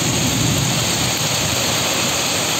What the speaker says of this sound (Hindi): ये ओले काफी टाइम बाद देखने को मिल रहे हैं.